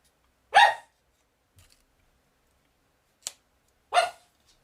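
A pet dog kept in a room gives a few sharp, fairly close barks, two loud ones separated by a short yelp and a quiet gap, with no talking over them.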